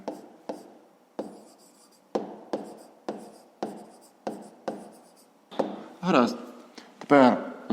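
A pen scratches across paper in short repeated strokes, close and clear, as a fifth-grade math solution is written out, the strokes growing quicker and busier toward the end.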